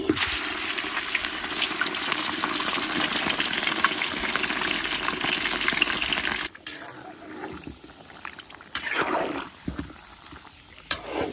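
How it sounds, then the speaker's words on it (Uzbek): Lamb meat dropped into a hot cauldron over an open fire, a loud dense sizzle for about six seconds that then drops away into quieter crackling, scraping and stirring. "Endi go'shtlarimizni qozonga solamiz."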